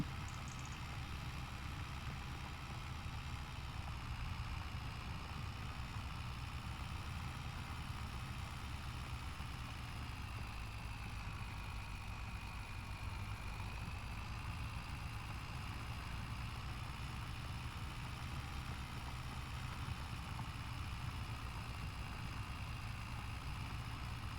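A skid steer with a stump grinder idles in Farming Simulator 25, its engine giving a steady, even drone with a low rumble that holds constant from start to finish.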